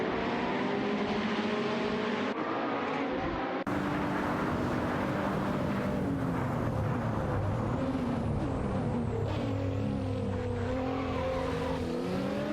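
A Lamborghini Huracan GT3 and an Audi R8 LMS Ultra race in a video game. Their engines roar with rising and falling revs and hard cuts between views, layered over a constant loud mechanical drone.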